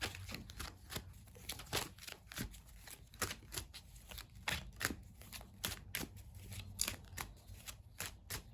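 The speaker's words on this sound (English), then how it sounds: "But I'm going to pull another card there." Tarot cards are shuffled and drawn in quick, crisp riffles and flicks, a busy run of soft papery snaps close by and fairly quiet, with no talking.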